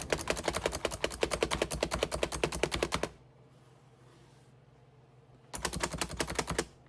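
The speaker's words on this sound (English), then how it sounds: "Just check out how it chops these onions." A Pampered Chef manual chopper dices onions in fast, even rapid-fire chopping bursts. It runs loud and close for about three seconds, goes quiet, then starts a second burst near the end.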